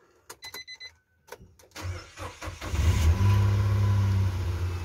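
A Nissan Micra Active is started with the key: a few clicks and a short starter crank, then the engine catches and settles into a smooth, steady low idle close by.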